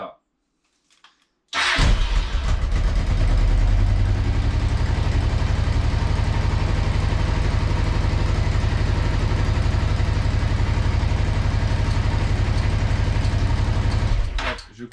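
A Honda Transalp motorcycle engine idles in place during a home repair. It starts abruptly and runs as a loud, close, steady rumble for about thirteen seconds, then cuts off at the end.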